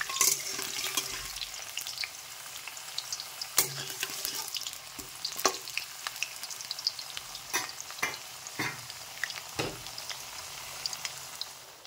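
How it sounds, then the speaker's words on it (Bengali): Potatoes fry in hot oil in a home kitchen, a steady close sizzle broken by occasional sharp clinks and scrapes of stirring. "গরম হয়ে গেছে তেলটা। এখন কিছু জিরে টেরে সব কিছু সম্বারটা দিয়ে দেবো একটু। আলুটা ভেজে টেজে সব কিছু দিয়ে দেবো।"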